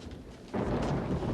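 A thunderstorm breaks out abruptly after a quiet moment, with a dense roar of heavy rain and deep rumbling thunder that stays loud and steady.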